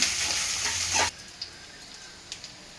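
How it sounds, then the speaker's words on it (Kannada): Fennel seeds fry in a pan for tomato kurma with a loud, bright sizzle that cuts off abruptly after about a second, leaving only faint scattered ticks and scrapes. "ಒಂದು ಸ್ಪೂನ್ ಸೋಂಪು, ಇದಿಷ್ಟು ಫ್ರೈ ಮಾಡ್ಕೊಳ್ಳೋಣ"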